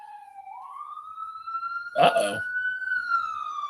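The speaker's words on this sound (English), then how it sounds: "There have been quite a few fire trucks and ambulances going by." A siren from passing fire trucks and ambulances rises and holds in a steady wail at a moderate distance, and a voice briefly speaks over it.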